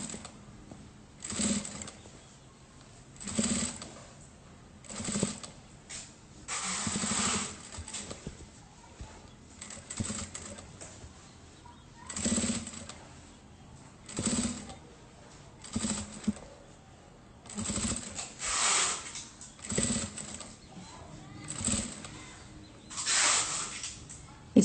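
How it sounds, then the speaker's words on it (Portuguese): A sewing machine stitches a fabric strip at a 3.5 stitch setting, running in repeated short bursts that start and stop roughly every second or two, with faint background activity in between and no speech. "com essa faixinha, direito com direito, vou fazendo essa costura."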